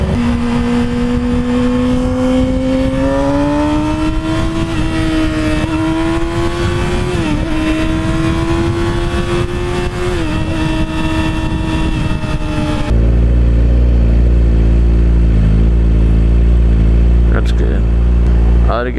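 A motorcycle rides onto a freeway with a loud, steady engine drone that climbs gradually in pitch as it accelerates, heavy wind rumble beneath, before the tone shifts to a deeper, even buzz.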